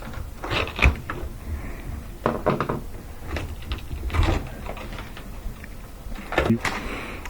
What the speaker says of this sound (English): Standard head screwdriver. You can pry off this spring clamp.